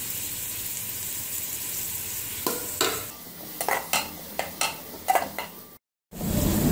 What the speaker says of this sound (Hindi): अब 1/2 चम्मच अदरक लहसुन का पेस्ट इसमें ऐड करने लगे हैं।